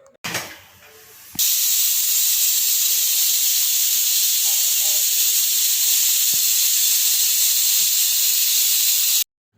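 A kitchen pressure cooker vents steam in a loud, continuous hiss that starts abruptly after a short quieter moment, holds evenly for about eight seconds, then cuts off sharply.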